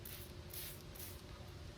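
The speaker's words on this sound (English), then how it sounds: "So I'm going to use this neem oil and spray it on the trees." Neem oil sprayed onto trees from a sprayer: faint, steady hissing mist with a few brief stronger pulses, heard alone.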